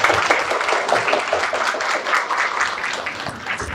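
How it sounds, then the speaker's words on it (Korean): An audience at an education briefing session in Busan gives steady, moderately loud applause of thanks that continues evenly throughout. "다시 한번 감사의 박수를 어머님께서 대신 한번 보내주시기"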